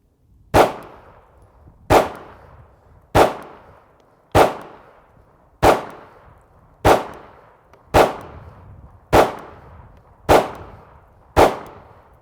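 Ten sharp gunshots from a Sig Sauer P320 pistol at a shooting range, evenly spaced about a second and a quarter apart, each loud crack followed by a short decaying echo.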